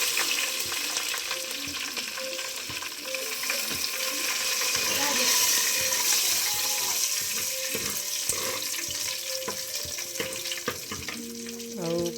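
Cinnamon and fennel spices frying in hot oil for a Pundi boka chicken curry, a loud, close, continuous sizzle with scattered clinks and stirring noises from the pan.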